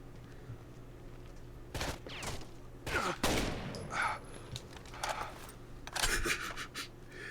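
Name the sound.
gunfire in the video game Rainbow Six Vegas 2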